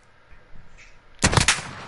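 Video game gunfight: a short, loud burst of rapid gunshots breaks out near the end after a quiet stretch of low background noise.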